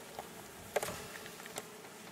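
A faint, steady honey bee drone hums in the background, with a few brief louder buzzes as one passes close.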